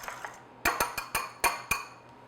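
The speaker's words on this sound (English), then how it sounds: "So I'm just going to whisk my egg. I'm using my small whisk here." A small whisk beats an egg in a bowl, giving six sharp clinking taps in an irregular rhythm, close and moderately loud, with no voices.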